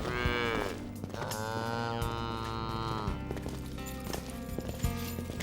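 A cow moos loudly several times in long, drawn-out calls during a French-dubbed TV drama, with a steady background bed beneath it and no talk.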